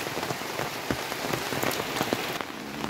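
Rain drums on a tin roof of a village house, a dense steady patter with sharper individual drops, close and continuous, with no voices.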